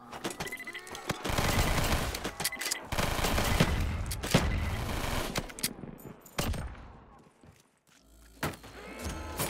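Weapons fire in a first-person shooter challenge map: dense bursts of automatic gunfire and booming shots overlap loudly for several seconds, then thin out into a few scattered blasts after a short lull.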